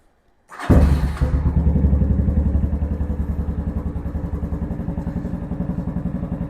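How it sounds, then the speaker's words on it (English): Venom Ghost Chopper 250 motorcycle starting up, a quick crank catching into a loud close idle with a steady rapid throbbing pulse that settles and runs on evenly, with no talking. "now I want to start the bike up to check the headlight"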